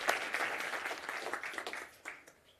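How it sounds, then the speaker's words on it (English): An audience applauds a speaker at a business talk. The clapping is fairly faint and scattered, and it thins and fades out toward the end. "And I'd love to, you all to give Adam Morgan a big round of applause."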